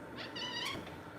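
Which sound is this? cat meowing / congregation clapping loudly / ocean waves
cat meowing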